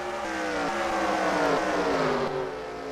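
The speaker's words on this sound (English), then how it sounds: "Car leaving pit road right now." Race car engine in a NASCAR-style superspeedway racing video game, a steady high drone with layered harmonics that shift pitch slightly as the car runs, fairly quiet and without commentary over it.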